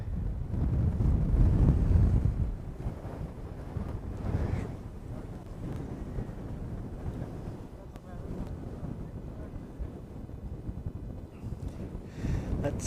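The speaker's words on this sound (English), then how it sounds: "She is blowing a gale out here, unfortunately." Strong gale wind buffets the microphone at an airport, a steady loud rumbling roar with gusty swells, while a person talks over it.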